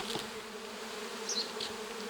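Honey bees buzz steadily and close by, a continuous droning hum with a few louder passes.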